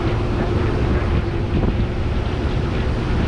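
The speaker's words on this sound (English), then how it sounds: "You see how the wind just comes through." Strong wind on Mount Washington, New Hampshire, buffets the microphone in a loud continuous roar that fills the whole moment without letup.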